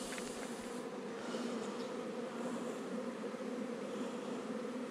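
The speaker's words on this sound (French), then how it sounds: "Elles m'ont l'air en pleine forme, ces petites abeilles." Honeybees buzz steadily and densely from an open hive during a spring inspection, a continuous close, even hum with no talking.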